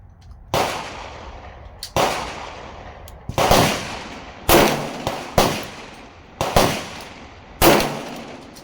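Colt Kodiak .44 Magnum revolver fired double action outdoors: seven loud, close, booming shots spaced a second or so apart, each followed by a decaying echo.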